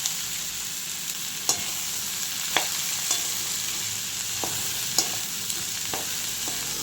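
Mixed vegetables for poriyal fry in a pan under a constant sizzle, while a utensil stirs them with scattered light clicks and scrapes against the pan's surface.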